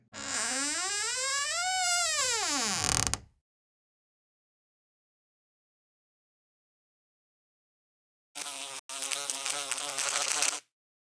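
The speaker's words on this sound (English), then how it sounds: "Bug zapper." Bug zapper sound effect: a loud electric buzz sweeping up and down in pitch for about three seconds, then silence, then a second harsher crackling buzz with a brief break near the end.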